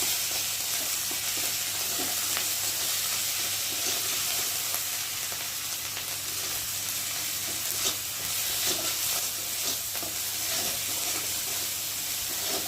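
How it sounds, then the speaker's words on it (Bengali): Spice paste sizzles steadily in a hot pan while being fried for sukto, a Bengali mixed-vegetable dish. A close, continuous frying hiss with faint stirring scrapes runs throughout, with no talking. "দিয়ে মশলাটা একটু ভালো করে ভেজে নেব।"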